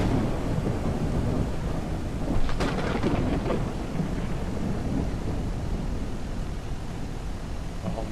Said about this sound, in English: Dude, this is a torrential downpour.